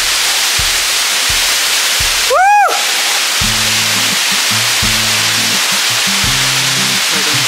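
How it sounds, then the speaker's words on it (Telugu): Aagaya Gangai waterfall in the Kolli Hills roars as loud, constant white-noise rushing water close by, with a brief whistle-like tone and some low murmuring voices beneath it. "వాటర్ ఫాల్ దగ్గరికి అయితే వచ్చేసినాం."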